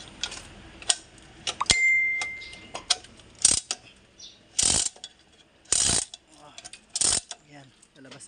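Metallic clanks and ratcheting clicks come from workers pulling the transmission out of an Isuzu 16-speed truck during a clutch assembly replacement, with several sharp loud bangs spaced irregularly and a brief ringing tone.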